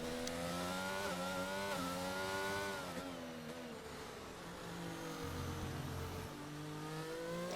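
McLaren race car in a Brazil round of a racing game on a wet track, engine note holding a steady high whine with shifting pitch as it accelerates and lifts, heard alone without talk.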